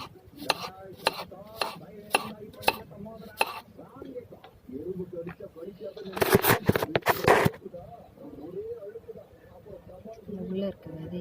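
A knife cuts through a dosakaya (yellow cucumber) on a board for an Andhra dal kootu, with a run of sharp, regular chops and then a dense burst of quicker cuts, under light background talk.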